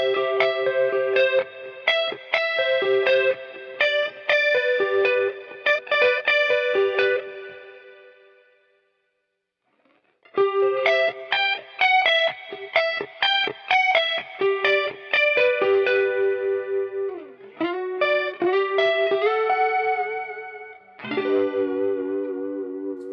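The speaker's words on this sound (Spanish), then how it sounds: "Voy a ponerle un poquito de reverb" Electric guitar run through a reverb pedal setup (Eventide H9, Strymon Big Sky), played as clean picked chords and melodic lines with effects, a short pause near the middle, then bent notes and a final sustained, shimmering chord.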